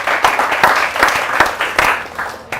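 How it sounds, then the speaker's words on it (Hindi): Audience applause at a patriotic Hindi poetry recital, a short burst of close, lively clapping with uneven sharp claps that drops off at the end. "एक बार जोरदार तालियां हो"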